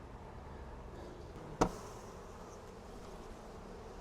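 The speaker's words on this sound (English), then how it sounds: "We got a bunch of bees just hanging out in the box." A faint, steady insect buzz from many bees in a hive box hums low throughout, broken once by a short sharp knock.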